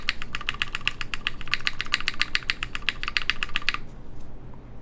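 Rapid, crisp keystrokes on a Tetrix 60 mechanical keyboard, roughly two dozen evenly paced clacks including spacebar presses, recorded close with no talking, stopping just before the end.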